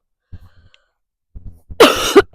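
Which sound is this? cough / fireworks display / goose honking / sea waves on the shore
cough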